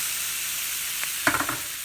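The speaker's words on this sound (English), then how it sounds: "I want to let it cook in with the onions and let it get brown" Spam fries with onions in a skillet, a soft steady sizzle underlying a few quick utensil taps and scrapes near the end, fairly faint and with no talking.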